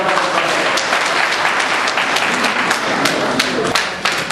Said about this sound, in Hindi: इसलिए जोरदार तालियों से